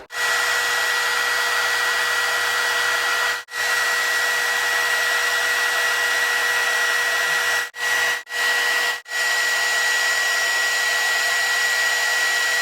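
A hair dryer on its cool setting blows over wig glue, a loud steady whir with a high whine, cut off briefly four times as it is switched off and back on.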